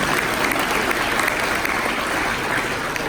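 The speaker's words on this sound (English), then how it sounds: "Let's give our visitors a round of applause" Steady applause from a room of attendees at a business networking open house, dense sustained clapping at an even level throughout.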